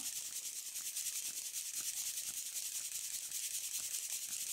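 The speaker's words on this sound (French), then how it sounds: "on va pouvoir tamiser avec juste une petite passoire comme ça." Cracked bulgur wheat is shaken through a small strainer, making a soft, steady, rhythmic gritty rustle with no one speaking.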